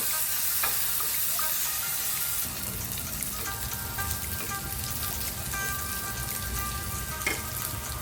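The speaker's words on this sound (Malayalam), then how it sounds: "ഒരു സ്പൂൺ ഗീ ഒഴിച്ചു കൊടുക്കാം ഇതിലേക്ക് നമുക്ക് റൈസിൻസ് ഇട്ട് കൊടുക്കാം" Raisins frying in a spoonful of ghee in a pan, a steady close sizzle with faint crackles running throughout, a few louder pops near the start and end, no one talking.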